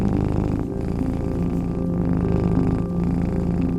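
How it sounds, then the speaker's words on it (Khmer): A domestic cat purrs close and loud, a continuous low rumbling vibration with slight rhythmic pulses, mixed with steady tonal background music. "4សំឡេងគ្រឹករបស់វា"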